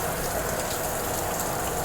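Heavy pouring rain falls steadily and loud, a dense continuous hiss of drops beating on surfaces with no break across the short stretch.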